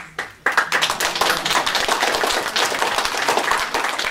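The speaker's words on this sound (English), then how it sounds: "You don't have to applaud." Audience at a town council meeting breaks into applause after a brief pause, a dense, close clatter of many hands that holds steady for several seconds.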